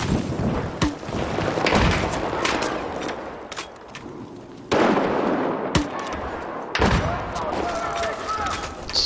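Gunfire and explosive bursts in the video game Battlefield 4 during Domination mode, with sharp cracks and booms recurring irregularly amid busy battle noise.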